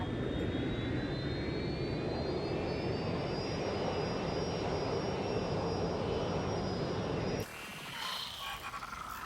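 Loud, steady jet airliner roar in the game Watch Dogs Legion, a continuous engine drone with a rising whine that cuts off abruptly near the end, leaving quieter ambience.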